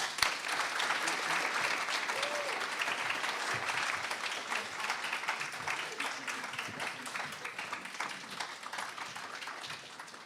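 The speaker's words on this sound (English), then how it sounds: "please give a huge round of applause for Caleb Jones" Sustained applause from an audience at a youth awards ceremony for winner Caleb Jones, dense steady clapping that holds for the full stretch and eases slightly toward the end.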